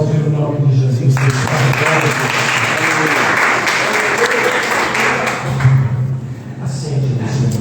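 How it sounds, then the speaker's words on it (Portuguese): A church congregation claps together in loud, sustained applause that swells and holds for several seconds, with a voice speaking before and after it. "você vai aplaudir o nome de Jesus"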